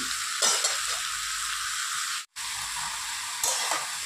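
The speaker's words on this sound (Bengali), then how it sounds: "এটা ভালো করে নেড়ে চেড়ে দিয়ে এটা একটু নুন হলুদ দিয়ে ঢেকে দিই" Ridge gourd and bottle gourd stirred in a pan, a dense watery sizzle with a few spatula scrapes, close and steady, briefly cutting out for a moment before resuming, no speech.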